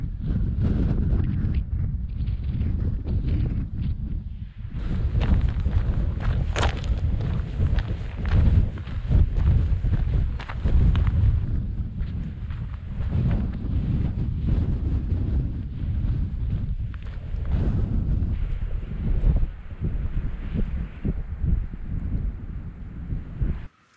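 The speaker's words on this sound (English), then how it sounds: "Trying to get a bit of shelter from this wind." Steady wind blows across open South Pennines moorland near sheltering rocks, a loud continuous buffeting rush with gusts and microphone rumble lasting throughout.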